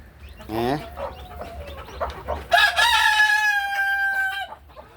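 A Fayoumi rooster crows loudly and close by in a long drawn-out call, preceded by clucking and softer calls from Fayoumi chickens.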